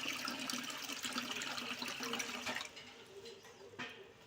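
Plenty of water is poured over washed ragi millet for soaking, making a faint, continuous gushing splash that eases off toward the end.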